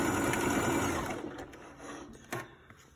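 A sewing machine runs a fast back stitch on a shirt collar, starting with a loud steady whirr, then slowing and stopping with a few quieter bursts and a short clack near the end.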